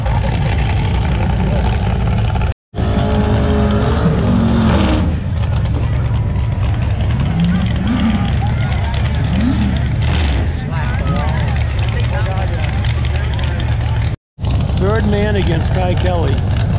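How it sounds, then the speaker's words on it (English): Street Outlaws drag racing cars at New England Dragway produce a loud, continuous engine roar with shifting pitch, heavy crowd and announcer voices over it, broken by two brief dropouts. "Supposed to be racing the Birdman"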